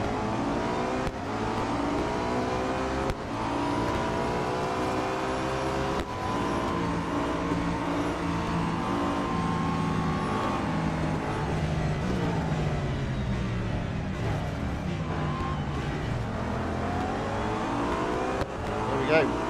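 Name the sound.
Audi A5 DTM race car engine in Real Racing 3 video game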